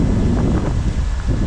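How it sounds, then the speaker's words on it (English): Loud, continuous wind buffeting the microphone on a bikepacking route in the UK Highlands, a roaring rush with no voices. "And now it's just windy"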